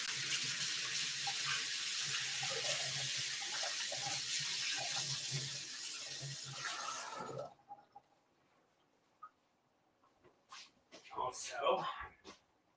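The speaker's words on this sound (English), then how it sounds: "Wash my hands." A kitchen tap runs steadily as hands are washed under it, a loud continuous splash that cuts off abruptly, followed by a few quieter clatters and rustles.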